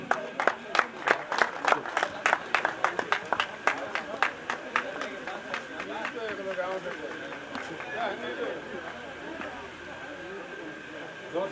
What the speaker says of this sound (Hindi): जोर से तालियां बजाओ, तालियों की आवाज़ नहीं रुकनी चाहिए